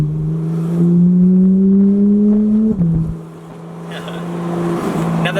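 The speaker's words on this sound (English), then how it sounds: "it's a naturally aspirated 500 horsepower flat six, which makes the car rev very, very high" A Porsche 991 GT3's naturally aspirated 500 horsepower flat six revs with a loud, steady rising tone that climbs, then drops sharply and dips quieter before building again, with rushing noise around it.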